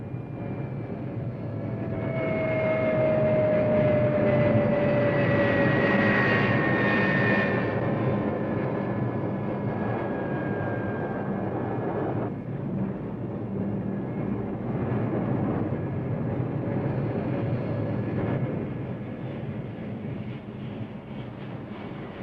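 A military jet at Da Nang air base in Vietnam makes a steady, fairly loud engine roar with whining tones that rise and fall and drift in pitch. The sound holds for about twenty seconds with no voices.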